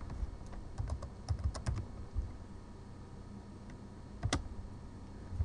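Keystrokes on a computer keyboard while entering a command-line version control command, a few quick clustered bursts of clicks with pauses between, fairly close and quiet, no voices.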